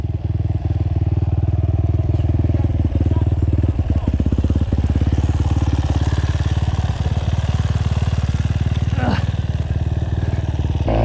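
Dakar GNX 250 or GNX 300 dirt bike ridden off-road in first gear on a trail, its single-cylinder engine buzzing loud and steady close by throughout, with rattling from the bike and ground mixed in.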